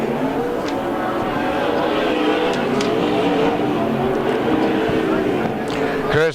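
A USAC Southwest sprint car roars around the dirt oval at Canyon Speedway, its loud engine droning steadily before surging past near the end, with a race announcer talking over the noise.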